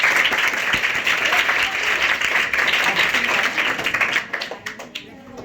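Loud applause from a school audience in Surat, Gujarat, honouring Savitribai Phule, a dense steady clatter of many hands that thins out and fades over the last second.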